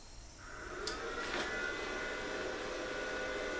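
A Harbor Freight Titanium Flux 125 flux-core welder switches on after a brief quiet moment, its fan rising into a steady whirring hum with a faint tonal whine and a couple of small clicks.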